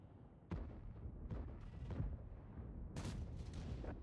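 A Minotauro tank's gun fires in the World of Tanks video game, with two heavy booms a few seconds apart over a rumbling battle backdrop.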